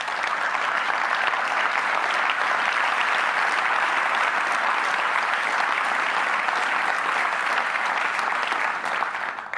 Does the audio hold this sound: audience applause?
yes